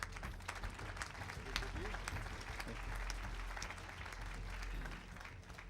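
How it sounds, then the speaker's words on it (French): Audience applause at the Pierres d'Or 2013 award ceremony, a steady wash of many hands clapping throughout, moderately distant and fairly quiet, with faint voices beneath. "Allez, on les applaudit tous les 5."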